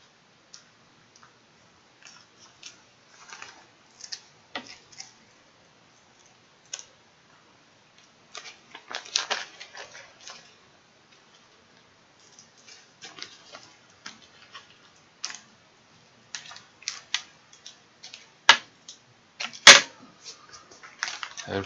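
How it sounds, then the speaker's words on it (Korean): Scissors snipping the fins off a dried whole pollock, heard as scattered sharp clicks and snips, faint and irregular, growing denser toward the end with a few louder cuts. "이렇게 가위질을 대충 끝내셨으면요"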